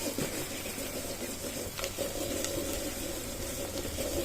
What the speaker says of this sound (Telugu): ఉల్లిపాయలు కొంచెం వేగాలన్నమాట